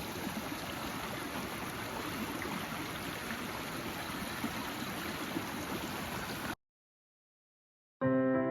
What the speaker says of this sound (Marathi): हे बघा पाणी कसं खळखळ वाहते बघा,